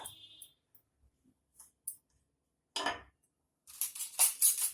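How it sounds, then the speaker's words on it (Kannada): A knife slicing menthe kadubu, a steamed fenugreek dumpling cake, crosswise: a handful of short, crisp clicks and taps against a plate or board, separated by silence, with a louder scraping cluster near the end. "ಒಂದು ನೈಫ್ ತಗೊಂಡು ಈ ತರ ಕಟ್ ಮಾಡಿ, ಅಡ್ಡ ಕಟ್ ಮಾಡಿ."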